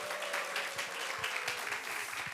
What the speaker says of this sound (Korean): 우리 오현조 전도사님, 정선양 권사님, 조현정 권사님 수고해 주시는데 한번 박수 부탁드리겠습니다